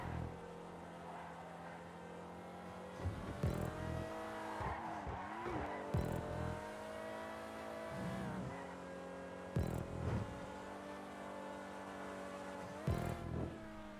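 Engine revving and repeated tire squeals from cars racing and drifting in GTA 5 first-person races, a steady synthetic motor drone with sharp skid bursts recurring throughout, loud and continuous.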